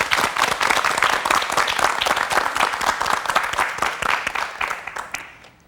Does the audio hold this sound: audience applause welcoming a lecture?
yes